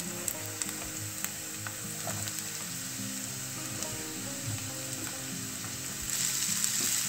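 Spiny gourd (kantola) sautés in oil with onions, giving a continuous close sizzle with a few soft stirring knocks, under background music.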